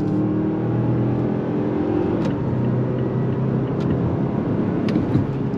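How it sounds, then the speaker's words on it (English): A 2022 Mazda CX-5 Turbo Signature with its 2.5-liter turbo engine and 6-speed automatic pulls hard under throttle, heard from inside as a steady, full engine drone with road roar and no talking. "I want to go on throttle here. If you're ready, I'm ready. On throttle, here we go. 6-speed automatic drops down and we're off."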